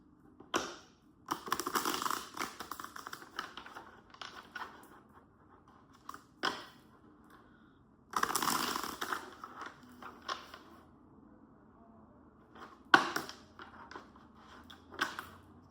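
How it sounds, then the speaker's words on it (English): A deck of tarot cards is shuffled by hand in repeated bursts of riffling and slapping, close and fairly quiet, separated by short pauses. "Man, I have to shuffle like 10 times or something."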